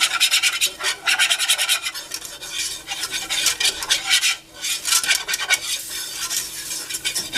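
A spoon stirs a black-pepper-seasoned mixture in a pan for BBQ nachos. Repeated close scraping strokes sound in a busy, steady rhythm, with a brief pause midway and no talking.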